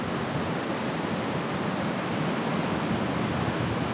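Rough sea at Broken Bay, seen from a high lookout: a continuous broadband roar of breaking white water, steady and full throughout with no voices.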